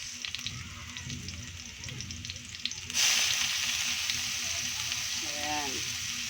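Chopped onion hits hot oil in a pan while a spicy squid dish is being cooked. A steady frying hiss jumps sharply louder partway through and continues as a loud, even sizzle with faint clatter beneath.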